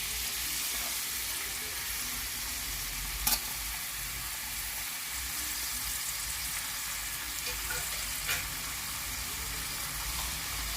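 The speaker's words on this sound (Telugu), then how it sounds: "ఆయిల్ హీట్ ఎక్కింది. ఉల్లిపాయలు వేసేస్తున్నాను." Onions sizzle and fry in hot oil in a pan, a steady close crackling hiss with faint stirring and a couple of brief clinks.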